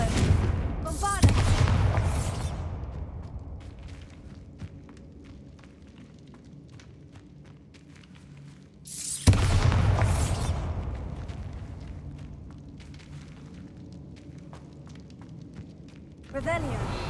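Spell explosions from Confringo and Bombarda in Hogwarts Legacy, two loud booming blasts with long rumbling decay, a third starting at the end, interspersed with a player shouting over the game sounds.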